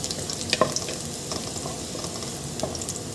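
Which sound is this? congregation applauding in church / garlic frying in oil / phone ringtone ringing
garlic frying in oil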